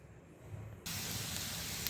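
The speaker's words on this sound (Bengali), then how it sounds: "প্রথমেই আমি কড়াইতে পেঁয়াজ দিয়ে দিয়েছি" Onions hit hot oil in a wok for a Bangladeshi tengra fish curry, a sudden loud, steady frying hiss that starts partway through and carries on without any voices.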